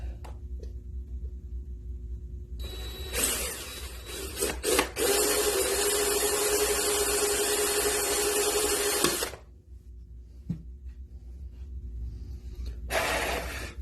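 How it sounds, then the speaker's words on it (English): A loud, steady grinding whir of a power drill boring through a Hummer H3 headlight's hard plastic for several seconds, with brief bursts before and after. "And then I can feed the bigger drill bit through it."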